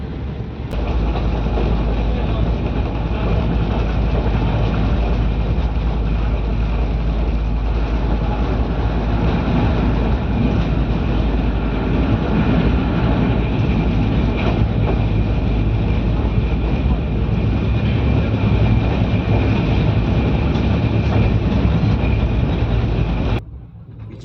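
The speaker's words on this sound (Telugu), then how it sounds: "ట్రైన్ యొక్క స్పీడ్ని చూడండి ఒకసారి చూపిస్తాను ఎంత ఫాస్ట్గా వెళ్తున్నాడంటే" Riding aboard the Machilipatnam-Bidar Super Fast Express at speed, a loud, steady rumble and rattle of the carriage persists for the whole stretch, with faint rhythmic clatter of wheels beneath, cutting off abruptly at the end.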